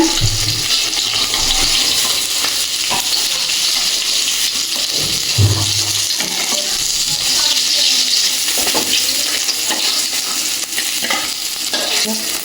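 Oil heats in a wok for a stem curry, making a loud, continuous sizzling hiss with occasional low clatters and bumps, close up throughout.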